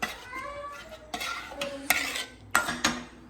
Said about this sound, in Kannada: ಚೀಸ್ ಹಾಕಿ ಈಗ ಹಾಲು ಮಿಕ್ಸ್ ಮಾಡ್ಕೋಬೇಕಾ?